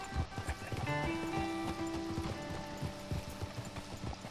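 Horse hooves clip-clop at a steady trotting rhythm in Red Dead Redemption 2, close and clear, with sustained game music tones in the background.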